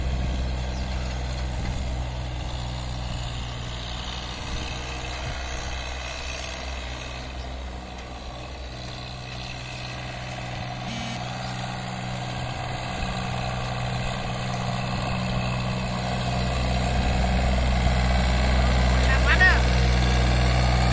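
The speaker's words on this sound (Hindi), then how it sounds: "छोटा वाला ट्रैक्टर वेरी गुड ट्रैक्टर" A John Deere 3028 EN 28 hp 4WD mini tractor rigged with a 5x5 offset disc harrow idles steadily nearby, a low continuous diesel rumble that swells slightly louder near the end.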